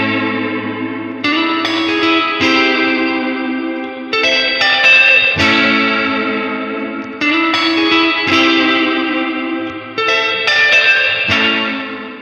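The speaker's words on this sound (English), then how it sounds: "The Holy Grail's spring reverb gives you that quintessential reverb tank sound" Electric guitar chords ring out through an Electro-Harmonix Holy Grail pedal's heavy, saturated spring reverb, each strum splashing and decaying in a long metallic wash, loud and close.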